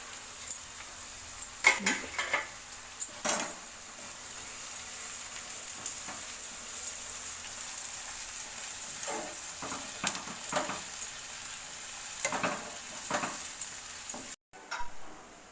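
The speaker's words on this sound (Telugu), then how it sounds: "ఉల్లిపాయ ముక్కలు పచ్చిమిర్చి వేసి బాగా ఫ్రై చేసుకోవాలి" A faint, steady sizzle of onions and green chillies frying in a pan, with occasional soft scrapes and clinks of stirring.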